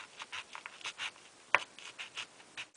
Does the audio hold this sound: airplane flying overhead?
no